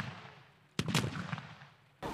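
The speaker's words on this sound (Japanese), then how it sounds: "山々に響き渡る銃声に観客は驚いたり拍手を送ったりしていました。" Two loud blasts from matchlock guns fired in a traditional demonstration at a Japanese festival, the first echoing off the mountains and rumbling for over a second before the second cracks out.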